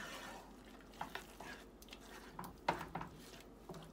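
Tomato, date and amsotto chutney ingredients being mixed in a pan, faint scattered scrapes and soft clinks of a spoon against metal at an uneven pace, quiet and close, without any voices.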